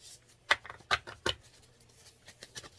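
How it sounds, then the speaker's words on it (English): Tarot cards are shuffled by hand in a quiet room, making three crisp riffling bursts close up, followed by softer scattered card flicks and taps. "All right, let me shuffle."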